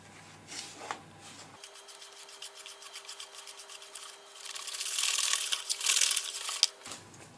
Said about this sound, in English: Now we're just going to add our wet mixture to the dry mixture and mix again.